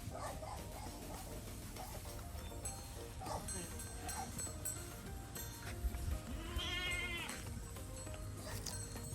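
Goats on a farm bleating, several wavering calls rising above a steady, noisy background, with people talking throughout.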